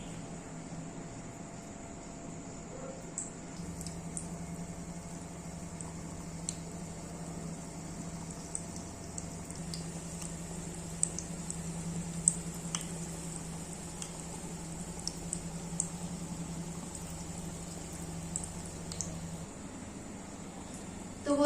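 Nimki, crisp fried strips of flour dough, gently frying in oil kept on a low gas flame, giving a faint, steady soft sizzle with scattered tiny crackles throughout and no talking.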